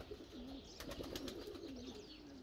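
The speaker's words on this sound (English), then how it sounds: "The birds are all having a bath there." Pigeons or doves coo softly in a garden, a low rolling call repeating faintly and somewhat distant, with a few brief fluttery or splashing sounds from birds bathing partway through.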